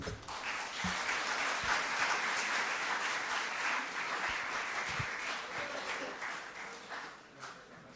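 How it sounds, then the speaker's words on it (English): Sustained audience applause at a World Tuberculosis Day event, a dense steady wash of many hands clapping that carries on for several seconds before gradually thinning out toward the end. "With a good round of applause."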